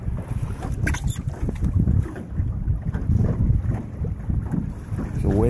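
Steady wind and choppy lake water wash around a sailboat under way, with gusts buffeting close over a constant low rush of waves against the hull; no voices.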